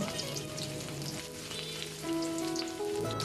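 Spice paste for a bottle gourd and prawn curry is stir-fried in a pan, a low steady sizzle with soft bubbling and spatter, close and quiet, with no voices over it.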